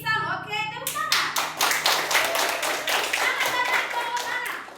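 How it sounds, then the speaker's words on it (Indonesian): Children in a classroom clap their hands together in a quick, rhythmic burst of distinct claps, close and fairly loud, just after a voice is heard. "Oke, tepuk tangan."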